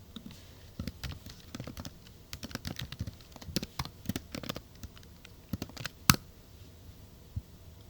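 Code being typed on a computer keyboard, a quiet, close patter of irregular key taps in uneven bursts, with one sharper, louder click near the end and no talking.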